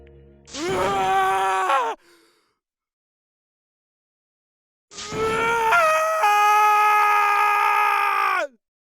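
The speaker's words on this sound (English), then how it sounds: "As Taka's sad scream invaded our skulls" Taka from the Danganronpa fandub lets out two long, anguished, wailing screams separated by a few seconds of silence, the second held longer and loud and close.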